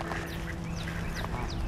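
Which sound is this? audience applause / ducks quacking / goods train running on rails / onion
ducks quacking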